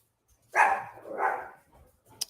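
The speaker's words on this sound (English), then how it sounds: "Dogs are going nuts." Dogs barking somewhere near a home auto body workspace: a single drawn-out, howling bark of moderate loudness with a second, weaker rise, trailing off to quiet, then a faint click.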